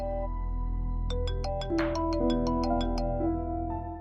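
A phone ringtone plays a repeating electronic melody, steady and fairly loud, with no voices over it.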